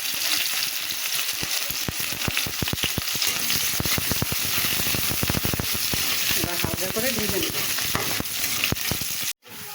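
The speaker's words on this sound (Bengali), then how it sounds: "এই যে আমি পেঁয়াজগুলোটা ভেজে নিয়েছি" Onion and garlic sizzle and crackle in hot oil in a pan, with dense popping bursts close by for a lau and masoor dal. A voice briefly murmurs underneath before the frying cuts off.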